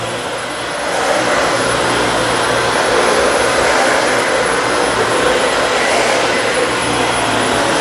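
A Dyson Slim Ball vacuum cleaner working over a dirty carpet gives a loud, steady, airy roar. It starts a little quieter and then holds an even whine for several seconds.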